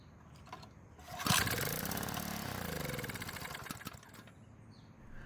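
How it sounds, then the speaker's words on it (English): A Toro mower's small engine, primed with fuel poured into the carburetor throat, sputters to life and runs roughly for a few seconds before dying down, with clicks before and after, close and fairly loud. "the engine started and ran for a few seconds on the fuel that I put into the carb's throat"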